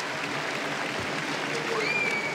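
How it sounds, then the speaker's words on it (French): A basketball arena crowd at the Astroballe applauds as Edwin Jackson leaves the court during an LDLC ASVEL versus Nanterre game, with a steady, moderately distant wash of clapping and faint sneaker squeaks. "Edwin Jackson applaudi par le public de l'Astrobal"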